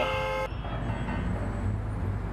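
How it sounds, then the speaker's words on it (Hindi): A car horn honks briefly over a steady rumble of idling engines and road noise in a traffic jam. "हॉर्न बजाने से कोई फायदा नहीं होगा।"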